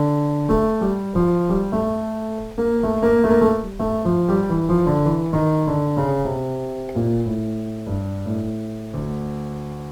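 EW Pianos Platinum virtual piano set to low reverb plays a lively run of chords and melody, bright and close with a dry, short decay between struck notes, loud and alone.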